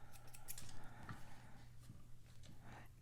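Scissors snip through fabric to trim a 1/4 inch seam allowance on a Peter Pan collar during sewing, giving a few quick close cuts with light metallic clicks in a quiet room.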